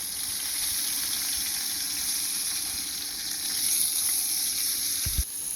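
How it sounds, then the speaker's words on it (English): Pork searing in a pan for a pressure-cooker recipe, giving a steady, loud sizzle and hiss throughout, with a brief low thump near the end and no talking. "we're just going to go ahead and sear that joker"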